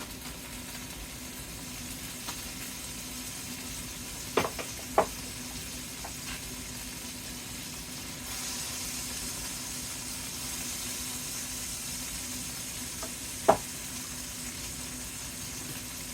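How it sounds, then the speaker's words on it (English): Salted and peppered pork pieces brown in a hot pan, a steady, fairly quiet sizzle running throughout with a few sharp pops and clicks. "We're not going to cook it. We're just going to brown it."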